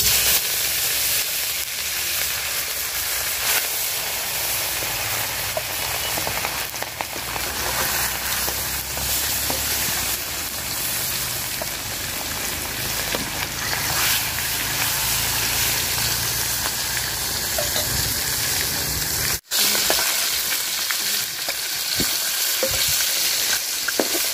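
Freshly caught pond fish frying in hot oil in a pot, a loud, constant crackling sizzle that runs throughout with occasional stirring scrapes and one brief dropout near the end.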